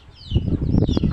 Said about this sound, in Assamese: বৰ অসুবিধা কৰে মুৰ্গীবিলাক